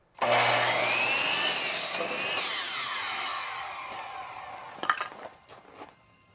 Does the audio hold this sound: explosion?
no